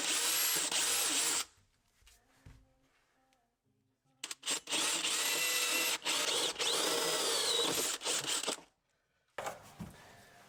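A power drill drills holes for a PVC hose pipe fitting, in loud whirring bursts separated by quiet pauses, ending with a final short burst, close by with no talk.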